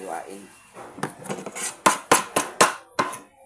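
A knife chops Baguio beans on a cutting board with a series of sharp, close taps in an uneven rhythm, about eight clear strikes, preceded by faint softer cuts.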